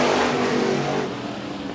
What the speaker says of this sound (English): Green flag flies. We are racing once again.